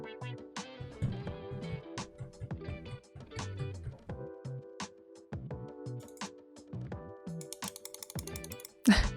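Rapid clattering of computer keyboard keys, recorded through a budget Fifine T669 microphone, steady and close, with irregular bursts of clicks throughout and a louder knock at the end.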